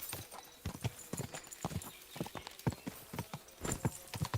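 A horse clip-clops along at a steady trot in Kingdom Come Deliverance 2, the close, rhythmic hoof strikes continuing throughout with no talk over them.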